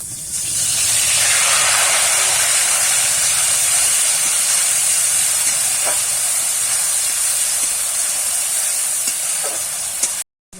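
Onion paste hits hot oil already tempered with cumin, while cooking a Bengali bhetki fish dish. A loud, steady, close hiss and sizzle rises quickly and holds, then cuts off abruptly near the end.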